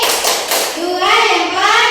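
A few quick, bright hand claps from a children's thumb-clapping game (tepuk jempol) ring out close by, then a voice continues in a sing-song chant.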